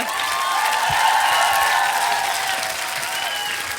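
A studio audience applauds a singer after her performance on a televised talent show, a broad sustained clapping that swells slightly in the middle and then eases off.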